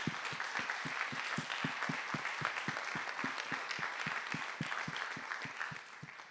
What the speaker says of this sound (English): let's just give all a round of applause for Tony.